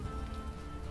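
Rain in the adventure game Unavowed falls as a steady, dense patter on a surface, a constant hiss with no gaps over a low ambient bed.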